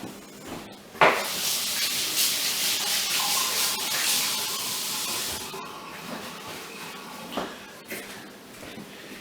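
Hands being washed under running water at a sink, a loud continuous rushing hiss with rubbing and small splashes, interrupted by a couple of brief knocks.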